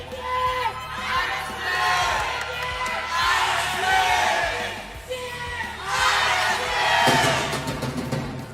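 Fans at a Mobile Legends esports match in the Philippines cheer and shout loudly in a sustained crowd roar, with whoops and voices swelling in waves, and a nearby voice calling out over the noise.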